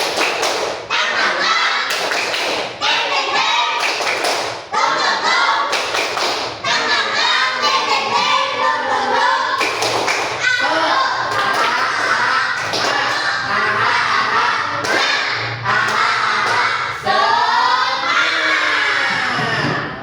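A classroom of students performs a rhythmic spirit clap, with repeated sharp claps and thumps, a teacher's voice calling over it.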